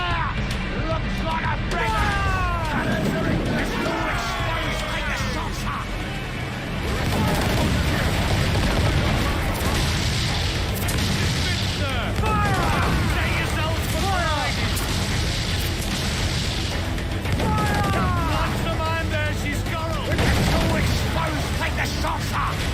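Ship cannons boom and crackle in a naval battle in Assassin's Creed 4 Black Flag, heavy repeated blasts and splashes layered over shouting crew voices, music and constant battle noise.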